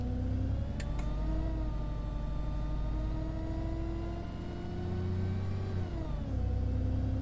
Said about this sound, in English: the engine pulling away